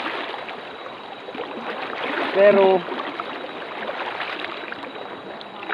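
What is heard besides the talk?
fast-flowing shallow river water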